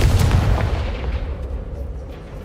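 Fiery blast from a Confringo spell in the Hogwarts Legacy video game, a loud close explosive boom with a heavy low rumble that decays over about two seconds, with no talking.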